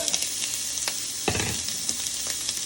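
Onions fry in oil in a pan, with a steady close sizzle and crackle, a brief louder burst in the middle where they are stirred.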